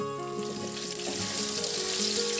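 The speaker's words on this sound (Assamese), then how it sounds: "পনীখিনি মই ৰঙচুৱাকৈ ভাজি লওঁ" Turmeric-coated paneer fries in hot oil in a pan, a loud, close, continuous sizzle and crackle that holds steady throughout, with no voices.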